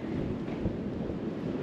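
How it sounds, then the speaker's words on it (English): Steady, rumbling wind buffets the microphone throughout at a Maldives resort, a low continuous roar with no voices. "It's been very windy these days"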